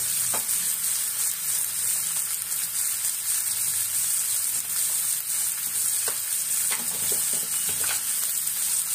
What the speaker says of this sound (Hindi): तो प्याज हमारी भून चुकी है लगभग, तो हमें ये टमाटर डाल देंगे एक हमने काट के।